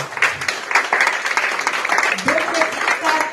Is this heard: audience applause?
yes